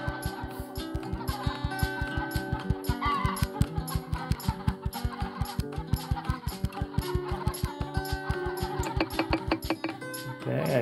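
Cartoonish chicken clucks and rapid rhythmic ticking from the mobile farming game Egg, Inc. play in a steady, dense pattern, with layered game tones underneath throughout.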